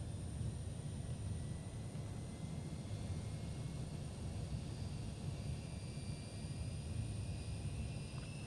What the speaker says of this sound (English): Let's go ahead and start engine 2.